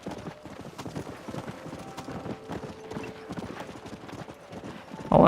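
Steady clip-clop of several horses' hooves trotting in the cowboy game Red Dead Redemption, a continuous close rhythm with a faint whinny and a brief louder burst at the end.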